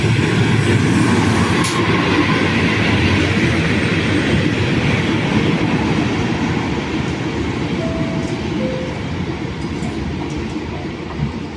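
A Trenord train rolls through a station in Italy, a loud, steady rumble of wheels and cars passing close by for the whole stretch, with a brief squeal near the end.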